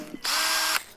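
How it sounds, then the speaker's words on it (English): A cordless 20-volt lithium-ion power drill rated at 1,700 RPM whirs in one short, loud, high-pitched burst of about half a second, starting and stopping sharply after a soft click. "here we have a drill"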